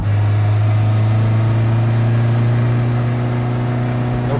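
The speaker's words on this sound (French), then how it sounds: "Donc ça c'est le son de ton turbo là qu'on entend." Steady engine drone from a turbocharged Citroën Saxo VTS, heard from inside the car as a loud, constant low hum with a faint high whine above it; no talking.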